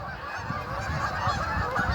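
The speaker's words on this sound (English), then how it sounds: "That's all I can hear is the honking of geese." A flock of geese honks at a migration stop, the calls dense and overlapping over a steady background, heard near and continuous with no talk.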